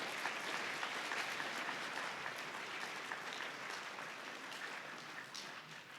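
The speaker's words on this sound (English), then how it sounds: "So give yourselves a round of applause for that." A large keynote audience at an agricultural expo claps steadily for six seconds, a dense, even roar of many hands that fades slightly toward the end, with no voices over it.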